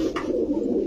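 A pigeon coos nearby at a market stall, a low continuous burbling note that fills the whole moment, with no talk over it.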